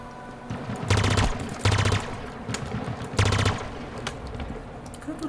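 Bursts of rapid automatic gunfire from the video game Halo Infinite, several short volleys of fast rattling shots separated by brief pauses, loud and close with faint game ambience between.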